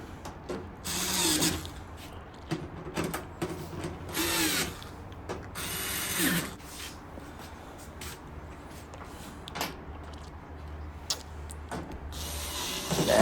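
A hand ratchet clicks in short bursts while tightening screws on the control panel of a GE gas dryer, its irregular rattling runs repeating across the stretch with brief pauses and louder clacks between them.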